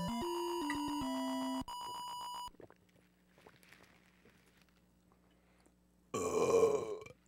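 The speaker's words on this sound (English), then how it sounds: "That burp tasted weird." A short, loud burp rings out near the end, after synthesized Super Mario Bros. game music tones and a stretch of near silence.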